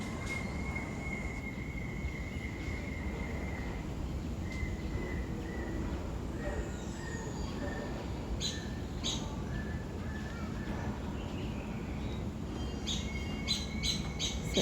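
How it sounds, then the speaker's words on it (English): Birds sing at Jurong Bird Park in Singapore, with repeated bright chirps and tweets scattered through steady outdoor background noise, some calls near and others farther off. "So I love to hear the birds singing."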